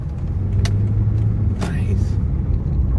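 A car rumbles past on a sand-covered desert road, a low steady engine drone close by, with people talking over it.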